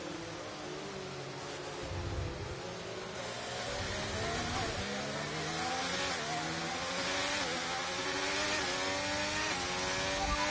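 Formula 1 cars in the F1 23 video game accelerate at the restart after a safety car at Italy, a pack of engines rising steadily in pitch and volume over ten seconds, with overlapping revving and upshifts.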